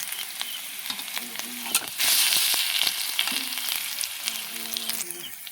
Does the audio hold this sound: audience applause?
no